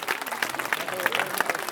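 Parents in a school gathering applaud the principals and teachers of a government school, giving a moderately loud, continuous patter of many hands with individual claps standing out, and voices faintly underneath.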